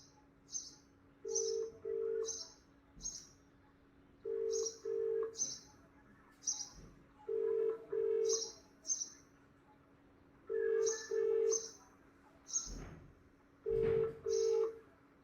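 A telephone call rings unanswered: paired electronic ring tones repeat in a steady rhythm with pauses between, alongside higher chirping beeps, fairly clear over a quiet background.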